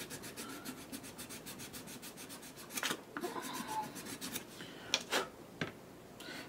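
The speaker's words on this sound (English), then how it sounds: "I'm going to take a little bit of 320 on a stick, and I'm going to sand this" Plastic blaster kit part sanded with 320 grit sandpaper on a stick: steady, rhythmic rasping strokes up close, a run of quick back-and-forth rubs followed by a few heavier, irregular scrapes.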